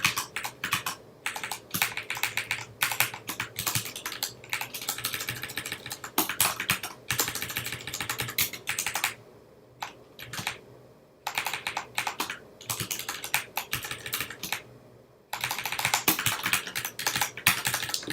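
Steady typing on a computer keyboard, close and fairly quiet, with quick bursts of keystrokes broken by short pauses.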